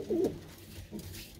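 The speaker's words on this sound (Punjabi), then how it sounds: "ਮੇਰੇ ਕਬੂਤਰਾਂ ਦਾ ਟੌਪ ਕਲਾਸ ਕਬੂਤਰ ਨੇ" A pigeon gives a short, low, close coo, a single soft throaty call with a faint murmur behind it.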